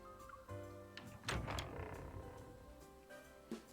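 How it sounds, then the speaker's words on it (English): A door opens in a video game with a few soft clicks and a latch clunk, followed by a short creaking swing and a final faint thunk, all quiet and close. "she shrugs and opens the door"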